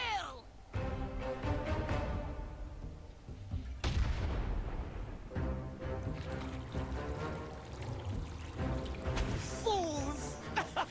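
Artillery cannon fire in World of Warcraft, heavy booming blasts at irregular intervals mixed with game music, effects and character voices, loud and close throughout.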